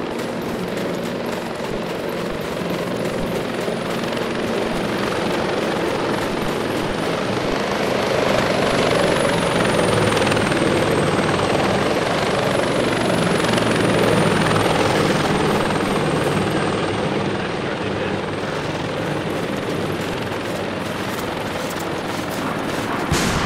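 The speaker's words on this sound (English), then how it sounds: "Three helicopters," Three helicopters fly overhead in the military game Arma 2, a loud continuous rotor and engine roar that swells in the middle as they pass, with faint bursts of gunfire.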